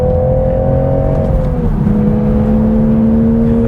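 A 2026 Toyota Supra Final Edition engine drones loud and steady from inside the cabin, its pitch holding and then dropping slightly midway before settling into a sustained hum.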